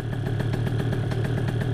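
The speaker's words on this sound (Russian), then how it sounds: "пока доеду до дороги, соответственно, мопед прогреется" A tuned Yamaha Jog scooter idles while warming up, its small engine thrumming close by in a fast, even pulse with light mechanical clatter, running alone without voices.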